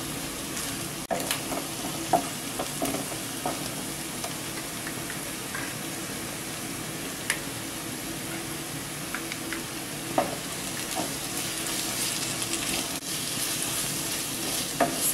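Ginger garlic paste, green chilies and curry leaves sauté in hot oil for a cauliflower masala. A steady, even sizzle runs close and unbroken, with occasional sharp pops and crackles and no talking.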